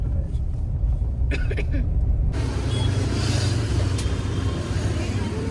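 A car is being driven, its engine rumble and road noise running steadily at close range, with a shift to broader, louder road noise about two seconds in and some voice-like sound mixed in near the start.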